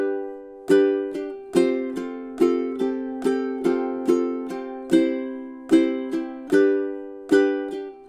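Measures 18 and 19 of a song strummed on ukulele, a run of crisp chord strokes in a lilting, syncopated rhythm with ringing sustain between hits, played close and alone without speech.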